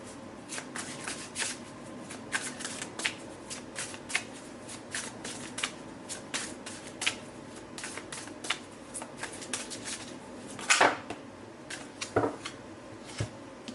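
Oracle cards are shuffled by hand in repeated crisp riffling bursts and flutters, close and alone, with a few louder slaps of the deck.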